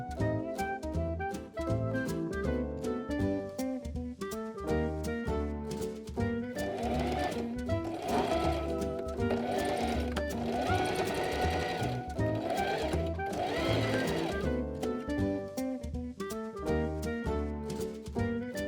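A sewing machine stitches the side seam of a braided summer dress, its needle whirring in steady rapid bursts that speed up and pause for close to twenty seconds, loud and close with no speech.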